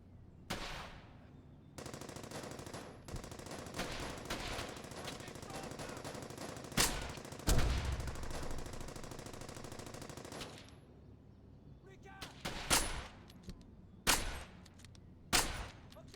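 Machine gun fire in the World War II shooter Brothers in Arms: Hell's Highway, with long sustained bursts followed by scattered single cracks and short volleys, some loud and near and others more distant, and no speech.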